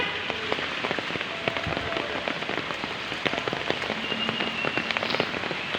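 Heavy rain pours down steadily, a dense close hiss broken by sharp drops striking a surface all the way through, with no voices.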